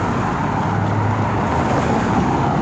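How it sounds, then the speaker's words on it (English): Continuous roar of road traffic in Stillwater, Oklahoma, cars rushing past close by in a steady, loud wash of engine and tire noise. "oh, the cars are so loud."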